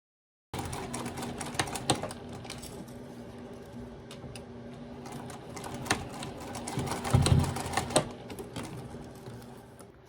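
A sewing machine stitches a narrow 1/8-inch seam along the inside of zipper tabs on a small fabric wallet, its rapid needle chatter running steadily throughout with a louder burst near the end, no talking.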